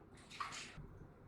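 About 400 ml of milk pours into a mixing bowl for a cake batter, a short, soft splashing gush lasting under a second, faint and alone.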